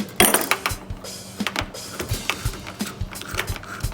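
Wire connectors are pulled from the burner assembly of a Rheem water heater during a thermocouple replacement, giving a close series of sharp plastic clicks and rattling taps in an uneven rhythm.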